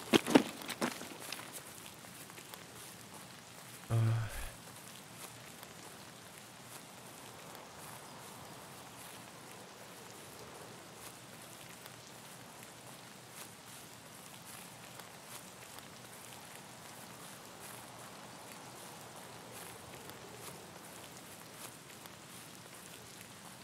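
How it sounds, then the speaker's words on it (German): Quiet, steady rain patters in the Escape From Tarkov video game, with a couple of brief louder thumps or footsteps near the start, otherwise a faint, even hiss throughout. "Also der Regen ist doller geworden"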